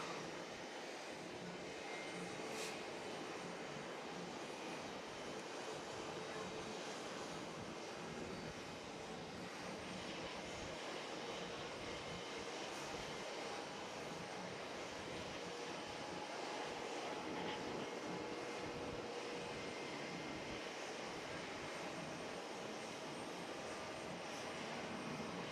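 Air France Airbus A380 jet taking off at JFK International Airport, a broad steady engine roar heard from a distance that holds constant throughout, with no voices.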